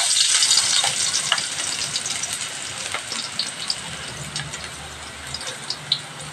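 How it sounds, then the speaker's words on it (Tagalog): Garlic and ginger frying in hot oil in a kawali, a steady close sizzle with light crackles and a few stirring scrapes throughout, no voices. "mainit na po yung oil sa ating kawali. So, pagsabayin ko lang si garlic at si"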